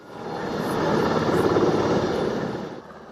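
A helicopter flies over a police special forces exercise, its engine and rotor roar swelling to a broad peak and then fading as it passes, with no speech.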